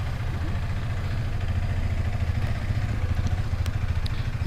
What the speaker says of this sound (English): It's got that thumper sound.